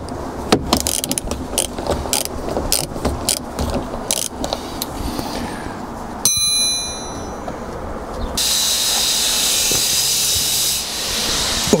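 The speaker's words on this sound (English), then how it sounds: "17mm socket will reach the top one" Ratchet with a 17mm socket working the top mount nuts on the rear suspension of a MK2 Golf GTI: rapid metallic clicks and clanks in uneven bursts, close by, ending in a steady broadband hiss.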